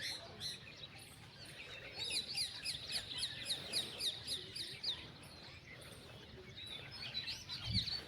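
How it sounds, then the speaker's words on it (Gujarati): Birds on a farm near a riverbank chirp and tweet in quick repeated bursts, moderately distant and fairly faint over a soft outdoor background. "જોઈ લ્યો બાકી પક્ષીઓ અવાજ સાંભળો, ફરે મજા જ આવે"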